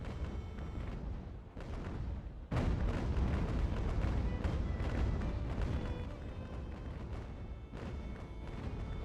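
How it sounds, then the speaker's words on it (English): Sailing ship cannons firing a broadside in Ultimate Admiral: Age of Sail, a dense rumble of overlapping booms with a sharp heavy burst midway, continuing as rolling distant blasts. "let's slow down a little so that the Orpheus can get a proper broadside in"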